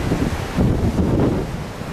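Gusting wind buffets a microphone outdoors, a dense continuous rumble and hiss that swells and eases across two seconds with no other sounds.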